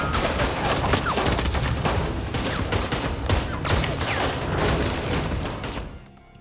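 Dense volley of gunshots and bursts of automatic fire in a shootout between Japanese agents and intruders in the Korean spy thriller Yaksha: Ruthless Operations, loud and continuous for about six seconds before cutting away.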